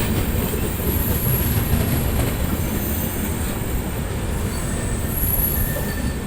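The Lucknow Tejas Express train passes close by, a loud continuous roar of rolling wheels and rumbling rail cars with high metallic squeals of wheels on track.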